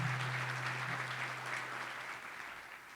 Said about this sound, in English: how about a round of applause for the U of A.